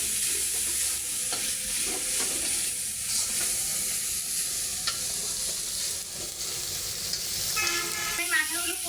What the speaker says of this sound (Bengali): আমি মাথাগুলো কষিয়ে নিলাম